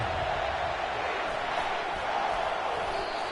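Stadium crowd at Kyle Field in NCAA 25 college football, a steady broad roar of thousands of fans that stays even and distant throughout, with no clear individual voices.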